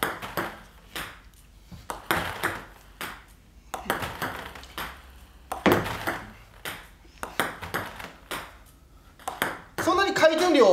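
A table tennis ball struck during a topspin serve demonstration, with a crisp ping and bounces near the end, heard under steady talking throughout.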